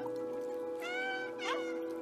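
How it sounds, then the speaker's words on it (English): Cat meows from the video game Stray, two short mewing calls over a steady hum of background game ambience, moderately close, with no talking. "That's me meowing. See, and they all meow back."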